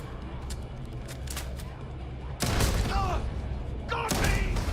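Gunfire in Starfield comes as bursts of sharp thudding shots, a sparse volley then louder, denser firing, with game voices talking over the action.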